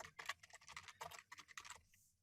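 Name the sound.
typing on computer keyboard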